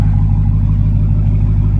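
Dodge Challenger SRT Demon V8 (2018) idling with a heavy, rhythmic lope, loud and close, deep pulsing throb repeating evenly throughout the short stretch with no voices.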